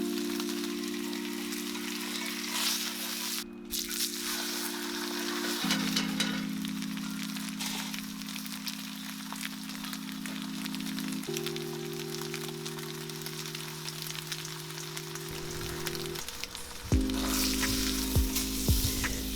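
Chuck roast sears in a screaming-hot cast iron skillet with avocado oil, a loud continuous crackling sizzle that persists throughout, with a steady low hum underneath and a brief flare near the end.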